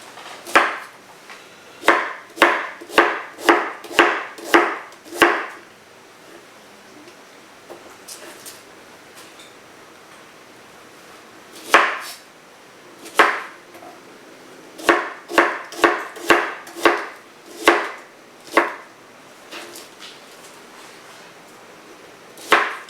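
Knife chopping through raw Brussels sprouts on a cutting board for a salad, with quick runs of crisp, evenly spaced thuds in bursts separated by pauses.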